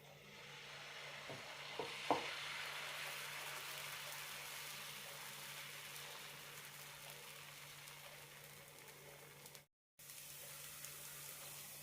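Semolina dosa batter sizzles on a hot tawa with a steady, soft frying hiss, a few small clicks near the start, and one brief dropout late on.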